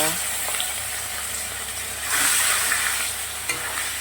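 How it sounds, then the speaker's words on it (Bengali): Katla fish frying in a pan, giving a steady close sizzle with stirring and light clinks, swelling louder partway through. "মাছটা কিন্তু আমি খুব বেশি ভাজবো না"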